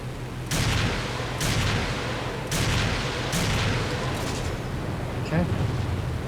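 Artillery shells bursting on targets in the IL-2 Sturmovik flight combat game, four heavy booms roughly a second apart over a constant low engine drone, each blast loud with a rumbling tail.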